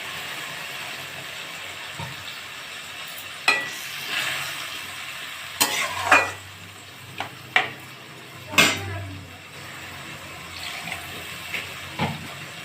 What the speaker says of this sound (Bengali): এবার জল দিয়ে দেবো একটু।